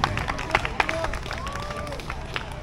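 Crowd at a church summer picnic claps and cheers in scattered, uneven bursts outdoors, with voices and chatter mixed into the applause.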